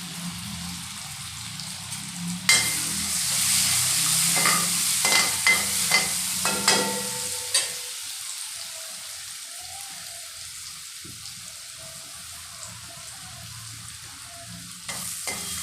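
Green chillies and salt sizzling and being stirred in a hot pan, a steady close frying hiss with a few sharp bursts of stirring and scraping early on, then settling into a quieter sizzle.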